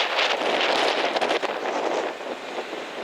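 Strong wind roars across the microphone in a steady broadband rush, gusting slightly louder at the start and staying heavy throughout.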